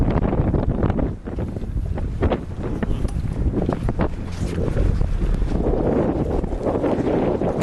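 Sailboat coming about under a steady roar of wind buffeting the microphone, with water rushing along the hull and occasional flaps and rattles as the boat turns through the wind.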